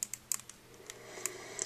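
Small plastic joints on a Revoltech Yamaguchi VF-1 toy figure clicking as it is posed: a series of light, close, crisp ticks in irregular rhythm, some doubled, with no talking.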